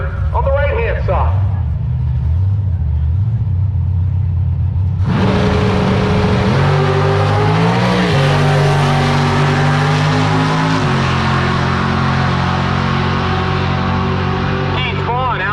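Loud drag race at an NMCA event between a 1987 Corvette and a 2000 Firebird, engines roaring from a quieter start into a sustained full-throttle run with rising and shifting engine tones, an announcer talking over it.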